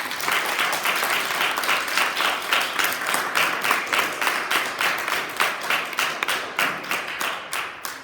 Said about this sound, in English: Let's give those girls a big clap.